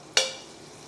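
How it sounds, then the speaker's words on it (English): Chopped oyster mushrooms dropped into a hot pan for a Thai tom yum soup, giving one sudden loud sizzle that fades into a softer, steady frying hiss. "2 chopped up oyster mushrooms that we're going to let fry here"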